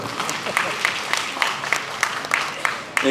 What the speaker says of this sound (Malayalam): എ ഗ്രൂപ്പ് മാത്രം കൈയടിച്ചു ഐ ഗ്രൂപ്പ് കൈയടിച്ചിട്ടില്ല